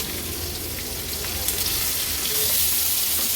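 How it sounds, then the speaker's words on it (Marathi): Bangda mackerel, an Agri Koli style dry fish fry with crushed garlic, sizzles in hot oil over a low flame, a steady close hiss and crackle with a few sharper pops and no talking. "एक एक करून आपण हा बागडा तेलावर सोडूया"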